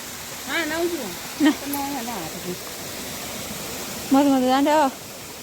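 Mountain stream in Himachal rushes with a constant loud, broadband flow, while a person talks over it in short bursts.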